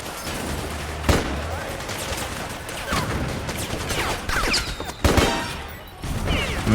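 Gunfire from the Metal Gear Solid 4: Guns of the Patriots video game, with bursts of shots and crashing impacts repeating across a dense, noisy battle mix, a few sharper blasts standing out near the start and middle.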